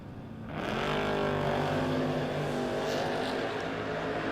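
A drag race car rolls up on the Penske side of the track at a No Box 660 Shootout, its engine swelling into a loud, sustained roar that holds steady for several seconds, heard from the stands.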